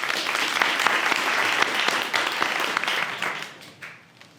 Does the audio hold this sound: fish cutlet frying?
no